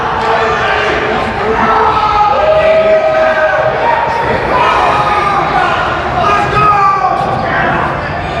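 Wrestling crowd cheering and shouting to rally behind a wrestler at an indie show, a loud continuous roar with scattered yells and bangs, a commentator talking over it.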